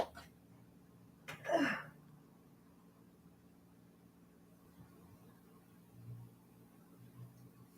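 A single sharp sneeze bursts out of a quiet room, followed by faint background rumble.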